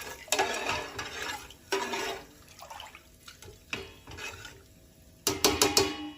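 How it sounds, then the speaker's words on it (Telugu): Bursts of wet stirring as a spoon mixes mushrooms, masala and water in a bowl, with scraping clinks against the vessel between quieter pauses, close and intermittent. "ఇప్పుడు ఇవన్నీ ఒక్కసారి కలుపుకొని"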